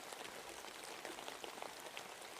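Steady rain falls in a dense, even hiss of countless drops, continuous and close, with no pauses or voices throughout.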